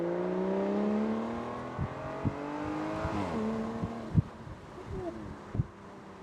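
An Aston Martin DB9 Volante engine revs hard and climbs through the gears, its rising pitch broken by sharp upshift blips, loud and close; the note then drops and settles as the car pulls away.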